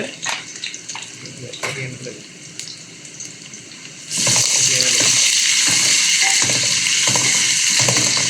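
Onions hit a hot pan with a little salt, and a quieter clatter gives way to a sudden, loud, steady hiss of frying that carries on without a break.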